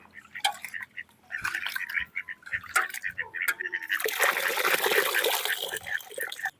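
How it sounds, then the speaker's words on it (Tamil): Water from soaked raw white rice pours and trickles off as it is drained, a steady splashing rush that grows stronger over the second half, with some clatter of the vessel early on. "தண்ணி வந்து சுத்தமாக வடிச்சு போட்டுக்கணும்."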